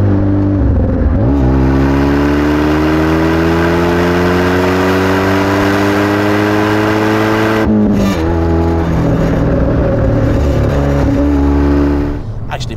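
Renault Megane R26 F1 hot hatch engine accelerating from inside the cabin, a steady rising drone that climbs through the gears with a brief shift dip, loud and continuous throughout.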